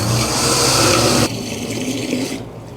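Water pours steadily into a 1.5-gallon stainless steel pump sprayer tank, a loud, close, continuous rush that shifts to a lower, softer fill partway through and thins out near the end.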